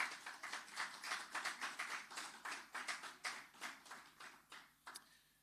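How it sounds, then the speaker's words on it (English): Small audience at a formal archives launch ceremony giving a round of applause, distinct separate claps in a quick rhythm, fairly faint and distant, thinning out toward the end. "Please give them a round of applause."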